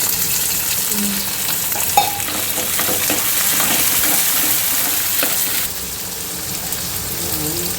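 Fenugreek curry (kuzhambu) sizzling in a pan while being stirred, a loud continuous close frying hiss with occasional scraping and clinks, dropping slightly in level near the end.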